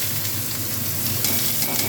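Chopped onion and tomato sizzle in hot frying oil in a pan where egg was just fried, a steady dense crackle that holds at one level with no voices over it.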